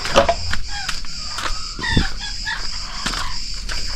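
Chickens cluck and crow outdoors amid steady background hiss, several bird calls scattered across a few seconds.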